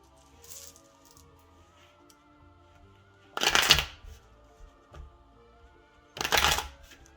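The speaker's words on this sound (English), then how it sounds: "Tarot always starts by shuffling the cards." Tarot cards being shuffled close up: two crisp bursts of riffling, with a few quiet card taps between them over a faint steady hum.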